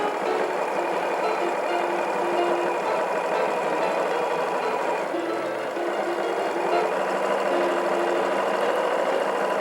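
Steady, continuous whir of a sewing machine stitching fabric coils, running evenly without pause at close range.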